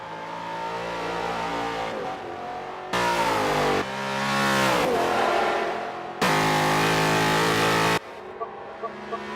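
A V8 race car in a racing video game accelerates down the straight, its engine whining upward through several gear changes in rising steps, loud and close, with abrupt cuts between bursts.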